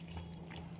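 Spice-washing water splashes briefly into a cooking pot of aloo dum, a short soft pour over a low steady kitchen hum.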